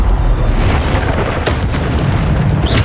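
Bombarda spell explosion in the video game Hogwarts Legacy, a loud, sustained booming blast with a deep rumble filling the whole clip, no talk.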